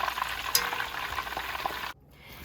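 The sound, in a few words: taco shells frying in a pan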